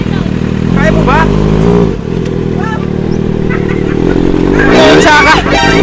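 A motorcycle engine runs loud and close, revving up and down repeatedly while people talk over it throughout.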